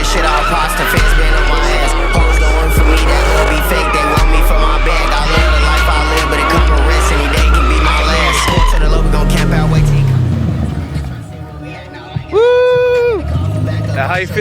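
A Cadillac CTS-V and a Pontiac G8 sliding, with loud, close engine roar and tire squeal, then a long rising screech of tires, while a crowd murmurs around the cars.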